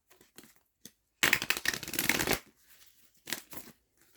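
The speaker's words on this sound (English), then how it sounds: "I'm just going to give this deck one quick shuffle." A tarot card deck shuffled once in a quick riffle, a dense crackling burst of flicking cards lasting about a second, followed by a few softer taps and card handling sounds, close up and alone.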